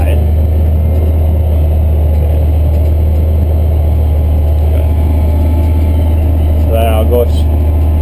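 A Cat MT765C tractor engine drones steadily while pulling a Kinze 1050 grain cart during a corn harvest, a constant low hum throughout with a brief higher squeal near the end.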